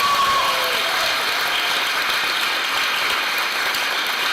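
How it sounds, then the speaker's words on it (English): An audience at a Berlin meetup Q&A breaks into loud, dense applause, sustained clapping that fills the room evenly from start to finish with no talk. "let's give a round of applause to Sabina, Dennis, and Anya."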